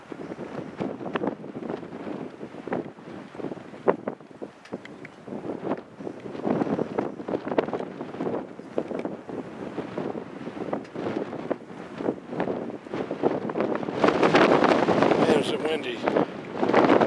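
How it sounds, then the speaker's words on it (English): Strong wind buffets and roars against the microphone in gusts, growing loudest near the end, with someone talking underneath. "It's actually the wind blowing the camera over"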